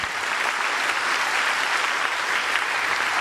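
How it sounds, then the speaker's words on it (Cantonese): Sustained applause from a crowd at a joint graduation ceremony of five Anglican (Sheng Kung Hui) schools, steady dense clapping filling the hall throughout. "再一次俾啲掌聲俾阿 Ben Sir 嘛"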